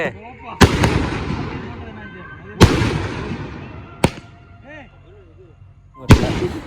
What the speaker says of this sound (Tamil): சித்தப்பா வந்து வெடி வைக்க போறாங்க.